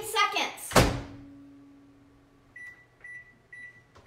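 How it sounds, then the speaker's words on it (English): A kitchen microwave oven is closed with a loud thunk, then hums as it starts, with a steady low drone and a few short electronic beeps near the end. "you're going to pop it in the microwave"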